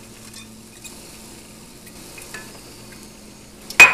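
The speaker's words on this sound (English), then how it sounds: "Over medium to high heat, we're going to saute our 1/3 cup of chopped onions" A third of a cup of chopped onions sautéing over medium-high heat for chilaquiles, a faint, steady sizzle with light stirring taps, ending in a sharp clank of a utensil against the pan.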